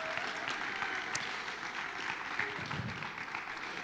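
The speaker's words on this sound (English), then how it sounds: "A round of applause too." Parents and guests applaud at a school presentation event, a steady broadband patter of clapping that holds evenly throughout at moderate distance with no voices over it.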